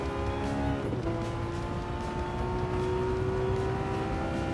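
Porsche 911 GT3 engine at full throttle in a racing video game, a loud continuous high-revving roar with rising harmonic tones that shift after a gear change, steady and close throughout with no talking.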